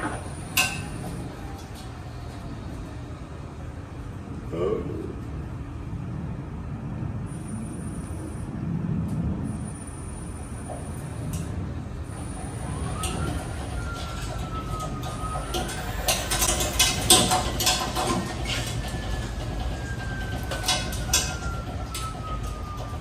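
A VW bus converted to a Tesla electric drive moves for the first time, its faint motor whine climbing in pitch as it gets under way amid quiet creaks, clinks and background rumble.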